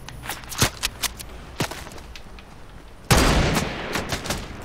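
Gunfire crackles in a video game, scattered sharp shots at first, then a loud burst of rapid fire that keeps rattling to the end.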